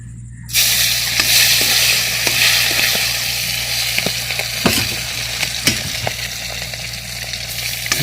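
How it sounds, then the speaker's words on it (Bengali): Kalbaus fish fried in a pan, giving a loud, continuous sizzle and spatter with scattered sharp pops and crackles, over a low steady hum. "মাছ ভাজ দিছে এখানে"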